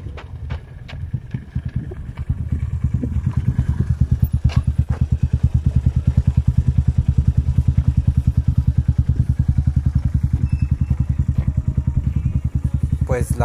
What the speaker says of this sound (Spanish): Pues la moto ya prendió